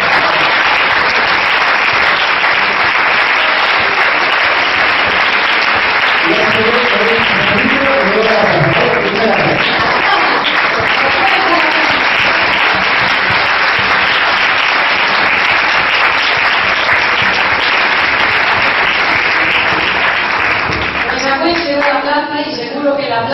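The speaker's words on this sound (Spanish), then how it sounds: "un aplauso para esta gente porque están haciendo muy bien" Symposium audience in Bilbao breaks into loud, continuous applause, a thick wash of clapping that stays strong throughout, with some voices and cheers surfacing in the middle and near the end.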